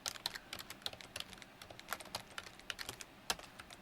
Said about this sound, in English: go ahead and type that properly.